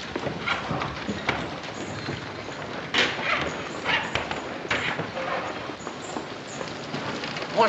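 Horse hooves clip-clop in a steady walking rhythm on hard ground in a Western setting, moderately close with light background noise and no clear talk.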